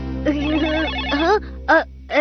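A telephone rings loudly in a cartoon scene, its electronic tone overlapping with voices speaking, the ringing repeating in short pulses toward the end.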